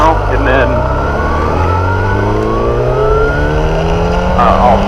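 Yamaha FZ1 motorcycle, a 2006–2015 model, ridden on a quick stock lap, its engine droning loud and close with rising pitch as it accelerates steadily through the gears.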